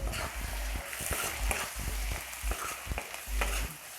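Sukuti, dried meat, cooking with a medium tomato in a pan, giving a steady close sizzle and crackle with scattered stirring scrapes and soft knocks throughout.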